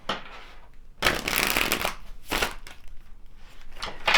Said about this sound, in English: Pull some more tarot cards and see what we get for you